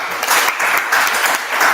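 A conference audience applauds after an ICCSA 2023 presentation, a short burst of loud, dense clapping that carries through to the end.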